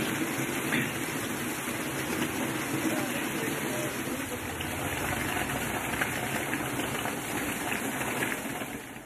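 Rain falls in Cheyyar, Tiruvannamalai district, as a dense, steady hiss that fills the whole clip, with a low engine-like rumble underneath.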